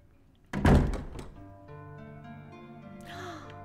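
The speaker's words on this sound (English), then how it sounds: "This is a very realistic door" In Resident Evil HD Remaster, a heavy door opens with a loud thunk and a creaking, resonant swing, followed by a low ringing tail and no talk.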